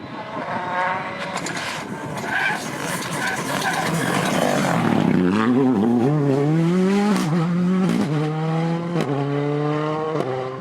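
A Ford Fiesta Rally 2 rally car races along a stage at Rali Ceredigion, its engine rising and falling through gear changes with repeated loud revving sweeps as it passes close by.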